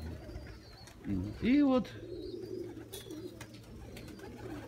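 An Armenian fighting pigeon gives a low, throaty coo close by, a couple of soft rolling calls amid background murmur and faint speech.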